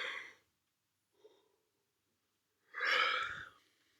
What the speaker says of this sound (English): I yawned. You heard me.